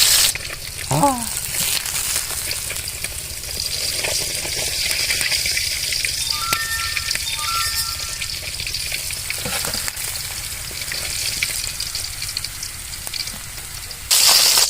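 Fish fry in hot oil in a pan with a continuous loud sizzle and crackle, accompanied by occasional stirring scrapes and faint background voices.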